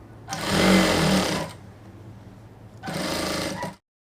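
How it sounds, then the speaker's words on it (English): Sewing machine stitching the side seam of a wrap crop top with a backstitch, two steady bursts of motor whir about a second apart, close and fairly loud with no talk. "Also, I'll backstitch again, and then I'll close the side all the way to the sleeve."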